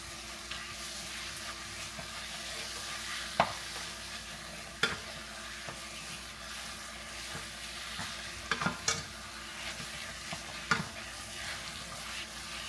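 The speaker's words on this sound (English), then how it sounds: "So we're just going to keep mixing and just let it melt." Cream cheese melting in a pan on a stove at medium heat, a soft steady sizzle with scattered clicks and scrapes of a utensil stirring, close and quiet with no talk.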